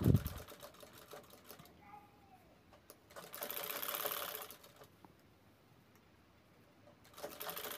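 Sewing machine stitching piping onto a handmade ladies' purse. Short runs of stitching come in bursts with quiet pauses between them, close to the microphone and fairly soft, opening with a brief thump.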